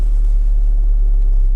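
A Honda Civic 1.6 i-DTEC diesel Tourer on a road test gives a steady, loud low rumble of engine and road noise from inside the cabin, even and unbroken, with no voices.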